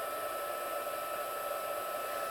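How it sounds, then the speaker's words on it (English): Heat gun blowing steadily over embossing paste on card, a continuous, fairly loud airy whoosh with no breaks and no talking. "it tends to get a little bit puffy when you apply the heat gun"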